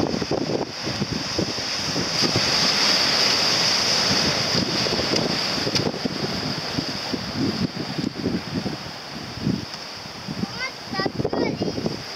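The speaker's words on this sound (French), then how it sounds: "Oh là là, la vague." Sea waves surge and break along the Brittany coast at Moguériec, a loud continuous wash mixed with heavy wind buffeting on the microphone.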